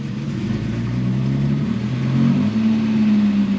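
A 50-year-old Volvo 164E engine, revived after sitting for 20 years, runs steadily at close range with a low, throbbing idle that climbs to a higher, smoother drone partway through, with no talking.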